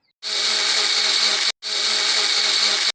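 A kitchen mixer grinder whirring through green chillies and salt in a mixie jar, two loud, steady high-pitched motor runs of about a second each, split by a brief stop, close up.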